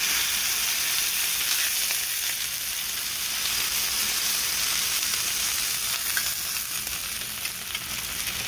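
Breakfast food is frying golden and crispy while a flat spatula presses it down, giving a loud, steady, close sizzle throughout with no voices over it.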